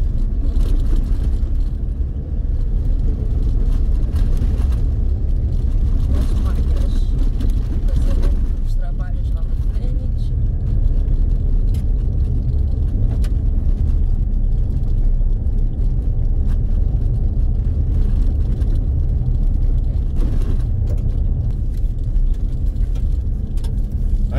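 A car cruising and overtaking on the BR-230 Trans-Amazonian highway in Pará gives a constant low rumble of engine and road noise inside the cabin, while someone talks over it.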